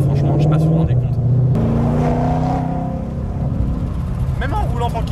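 A Ford Mustang Shelby GT500 engine hums steadily while cruising gently, with a loud continuous low rumble and a few shifts in pitch under someone speaking over it.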